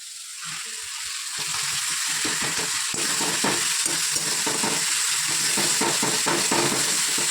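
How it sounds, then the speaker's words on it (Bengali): Spice paste with onion and tomato frying in a pan, a steady broadband sizzle that swells after the first second and holds loud, with frequent scraping stir strokes ticking through it. "এই যে মশলাটা ভাজছি পেঁয়াজ আর টমেটো দিয়েছি"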